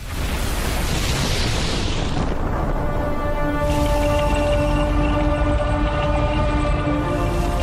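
A tank gun fires in a World War II battle at Kursk, a loud boom followed by a sustained explosion roar with a rumbling, droning low-frequency tail lasting several seconds.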